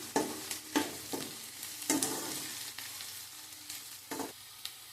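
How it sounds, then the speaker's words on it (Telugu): Onions and dried prawns stir-fried in a pan, a close, steady sizzle broken by several sharp scraping strokes of the spatula at irregular intervals. "ఇలా కలుపుకుంటూ ఫ్రై చేసుకోవాలండి."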